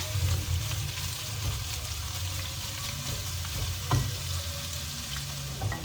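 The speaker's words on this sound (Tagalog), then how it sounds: "Igigisa ko lang muna siya ulit para magmantika." Boiled pork with only a little fat sautéing in a pan to render it, a steady close sizzle and crackle with occasional louder pops, no talking.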